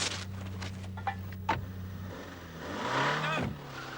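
The engine of a Renault 19 Chamade saloon revs and accelerates at moderate volume, rising and swelling toward the end against a steady background hum.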